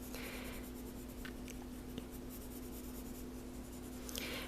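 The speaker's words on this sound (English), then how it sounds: "So I'm going to go back with the blue color pencils, and these are just regular Crayola color pencils." A regular blue Crayola colored pencil shades a figure sculpture drawing on paper, giving a soft, continuous scratchy rasp of close strokes with a few sharper taps, quiet and steady throughout.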